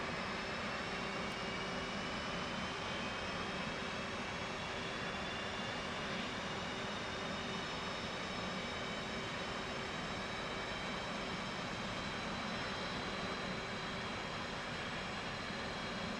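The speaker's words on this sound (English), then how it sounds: "We're getting all the engines started" F-18 jet engines spooling up in a flight simulator game, a steady faint whine and rumble that holds evenly throughout with a thin rising tone, no voices.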